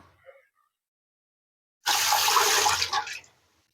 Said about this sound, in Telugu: వాటర్లో కొంచెం తడుపుకుంటున్నాను